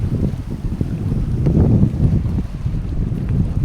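Strong monsoon wind buffeting the microphone at a seaside dike, with rough waves churning below as a steady low roar with no voices.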